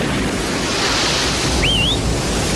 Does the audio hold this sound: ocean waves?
yes